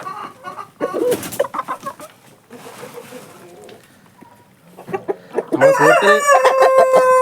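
Laying hens on a poultry farm cluck and squawk in bursts, close by, ending in a loud, busy flurry of calls from several birds at once.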